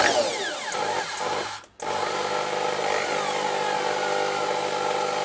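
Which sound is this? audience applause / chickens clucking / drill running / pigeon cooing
drill running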